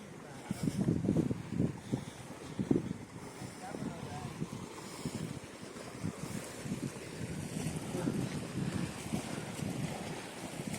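Water laps and splashes in irregular bursts along the shore of Puzhal Lake, with wind buffeting the microphone and people talking faintly nearby.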